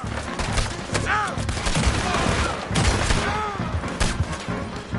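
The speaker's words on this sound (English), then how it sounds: "Open fire on him!" Rapid bursts of gunfire in the Western video game Red Dead Redemption 2, several shots cracking in quick succession over five seconds with ricochet-like tones and background game voices.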